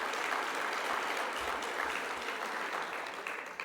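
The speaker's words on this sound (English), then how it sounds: "a big round of applause to all of you" A seminar audience claps for its speakers and organizers, a dense, steady burst of applause that holds loud throughout and thins slightly near the end.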